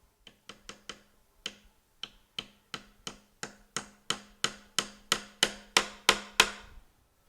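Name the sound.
hammering a tack into the side of a chair rail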